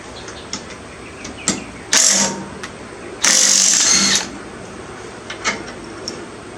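Hand wrench or ratchet loosening the clutch and pulley bolt on a zero-turn mower, heard as two loud bursts of close metallic grinding with scattered clicks between, no talking.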